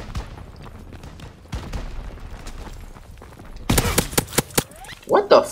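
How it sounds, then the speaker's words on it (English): Shotgun blasts in Call of Duty World War 2, a loud cluster of sharp reports arriving late after quieter stretches of muffled game noise and talking. "You can shoot the shotgun like that?"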